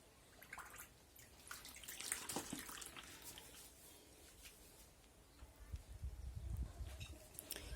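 Water runs into a large plastic storage box to cover and soak fleece fabric, a faint, steady trickle and splash with soft drips, quiet and close, with no talking.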